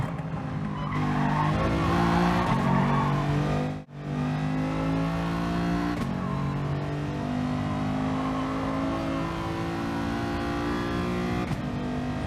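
Gr.4 race cars in Gran Turismo Sport at the Sardegna circuit, several engines roaring and revving close together with tire squeal, loud and continuous with one brief gear-change dip.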